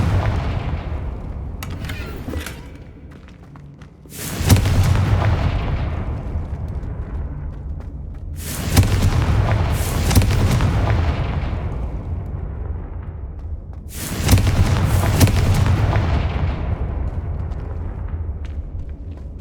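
Confringo spell blasts in Hogwarts Legacy: three heavy booming explosions spaced several seconds apart, each a loud burst decaying into a long rumbling tail, with quieter crackle between.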